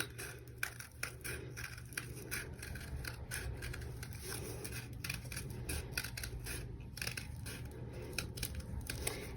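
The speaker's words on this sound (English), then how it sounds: "then you get your scissors and you cut the circle out." Scissors snipping a circle out of paper in quick repeated crisp cuts, close up and fairly quiet, with a faint steady hum in the background.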